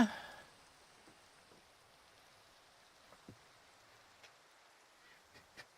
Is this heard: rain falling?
yes